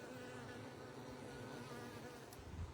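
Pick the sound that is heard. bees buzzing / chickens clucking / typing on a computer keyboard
bees buzzing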